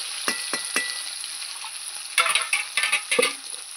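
Chunks of elephant foot yam and potato frying in hot oil, a steady close sizzle broken by several sharp stirring scrapes and clatters, with a brief louder burst toward the end.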